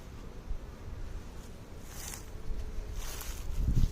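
Honeybees hum around an open beehive during a spring inspection of a calm colony, a steady close buzz beneath rustling handling noises that grows slightly louder toward the end.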